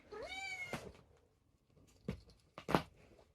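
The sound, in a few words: cat meowing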